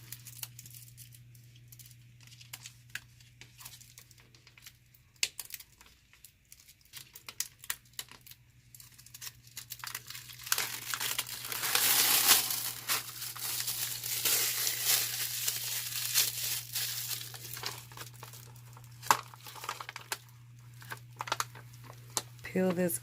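A transfer sheet is peeled off a clear plastic party plate. The crinkly, papery peeling rises loudest midway through, with scattered rubbing and tapping and faint background hum around it.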